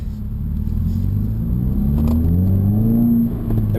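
A 2016 Subaru WRX fitted with a Nameless axle-back exhaust pulls away with a deep, throaty rumble. The engine note rises through a short acceleration, heard close up with no voices.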